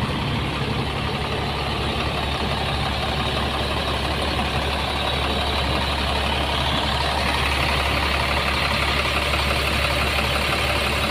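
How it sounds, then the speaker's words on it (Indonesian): A large bus engine idling steadily, a deep continuous rumble with a low throb, heard up close and without pause. "Suara mesinnya."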